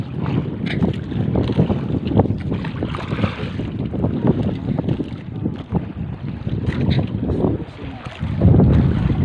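Strong wind gusts buffet a small fishing boat at sea, with loud, uneven roaring and flapping along with water and hull noise, rising in bursts throughout.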